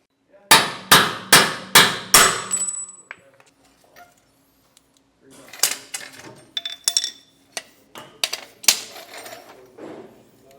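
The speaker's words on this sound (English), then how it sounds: "So I'm going to grab my hammer real quick. We'll get these knocked out." A hammer strikes the bolts of a boat trailer axle during a suspension installation: five sharp, ringing metal blows in quick succession, then a pause, then a scatter of lighter taps and clinks.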